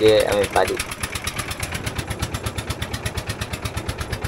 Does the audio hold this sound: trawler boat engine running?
yes